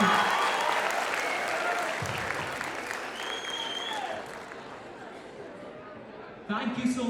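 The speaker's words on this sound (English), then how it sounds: "please give a big round of applause for our chief guest" A seated audience at the Swayam 2025 event applauds steadily after a sung vocal rendition, a dense wash of hand claps that slowly thins and then swells again near the end.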